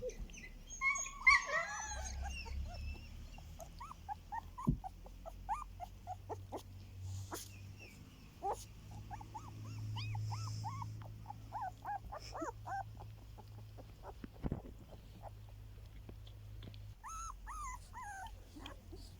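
Kangal dogs whimper and yip softly at a distance, with occasional short barks and a low rumbling hum in the background, no talking.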